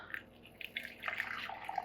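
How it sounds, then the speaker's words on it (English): Cleaning solution is poured into a jewelry tumbler barrel holding stainless steel shot, giving a soft, brief liquid trickle and splash close by, with no talk over it. "I'm just going to pour half of this into one barrel and half into the other barrel."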